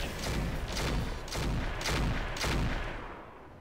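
A Roguetech battle mech firing all its weapons at once: a loud, sustained barrage of overlapping gunfire and booming blasts arriving in several rolling waves, with no talking.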